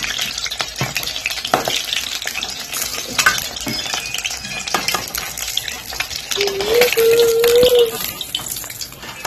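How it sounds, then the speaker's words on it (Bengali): Sizzling and crackling of eggs frying in hot oil, with intermittent scraping of a utensil and a brief tonal squeak near the end. "এবার আমি ডিমগুলো ভেজে নেব।"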